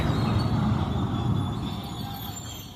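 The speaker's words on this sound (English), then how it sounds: "And there's my local bus." A local bus passes along a quiet street in Sendero de Luna, Puerto Vallarta, giving a steady low engine rumble and road roar that stays close, then eases slightly as it moves on.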